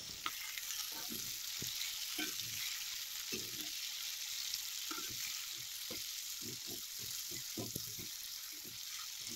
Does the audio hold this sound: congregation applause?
no